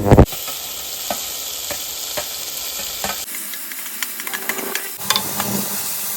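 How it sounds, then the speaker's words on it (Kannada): Green chillies and tomato fry in a pan, a steady sizzle broken by scraping stirs, quieter and sparser hissing in the second half after a pause. "ಇಷ್ಟನ್ನು ಹಾಕಿದ ಮೇಲೆ ಚೆನ್ನಾಗಿ ಫ್ರೈ ಮಾಡ್ಕೊಳ್ಳಿ ಒಂದ್ಸಲ"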